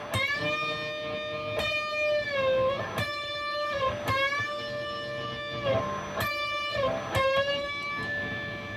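Electric guitar notes are repeatedly bent up a whole step and let back down, one after another, ringing clearly with no talking.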